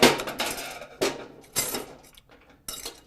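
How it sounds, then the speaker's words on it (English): A metal screwdriver pries an L-shaped snap ring out of a brake drum groove, giving several sharp metallic clinks and scrapes at irregular intervals, close and fairly quiet. "The last bit of it is stuck in the groove here, so we got to get our screwdriver here just enough to bring it up"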